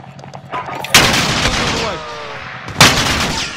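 Two sharp, loud gunshots about two seconds apart ring out in a tactical shooter game, each with a reverberant tail over low background game ambience.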